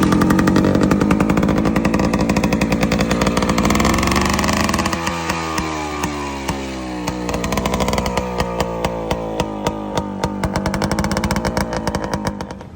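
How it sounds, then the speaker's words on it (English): A Harley Hummer two-stroke motorcycle engine revs loud and close, its buzzy rapid firing rising and falling through several throttle blips with a dense crackling rasp. "Harley two-stroke"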